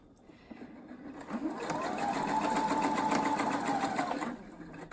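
A sewing machine stitches a long seam line on an infinity scarf pocket zipper, whirring steadily and loudly for several seconds after a short start-up, then slowing to a stop.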